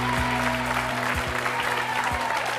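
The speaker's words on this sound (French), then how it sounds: "Je vous demande de l'applaudir." A French television studio audience claps for a magician being welcomed on stage, a steady wash of applause under a low electronic hum with a few deep thumps.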